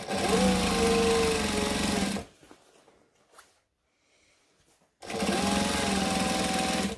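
A sewing machine with a walking foot stitches through a quilted ironing board cover in two loud, fast-running bursts, with a quiet pause between them.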